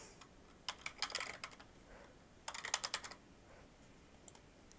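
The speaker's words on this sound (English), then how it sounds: "I start typing and find my fields and add my hard-coded values." Typing on a computer keyboard while entering values into a form, heard as two quick bursts of close, crisp key clicks separated by a pause, with a few scattered taps after.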